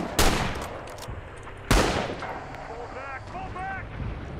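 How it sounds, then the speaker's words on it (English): Artillery barrage in the World War II shooter Rising Storm on the Kwajalein map: two loud, booming impacts about a second and a half apart, each with a long rumbling tail, followed by faint distant gunfire and chirping sounds. "Oh, I'm calling artillery in."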